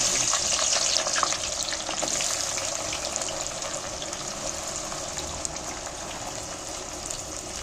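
Onions frying in oil heated very hot, with a steady close hiss and crackle throughout and no talking.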